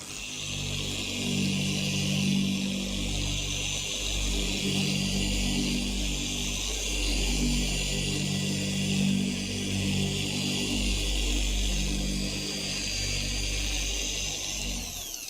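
A polishing machine buffs car paint in a crosshatch pattern, running sped up as a steady, loud, close drone with a low rumbling motor tone and slow rhythmic swells throughout.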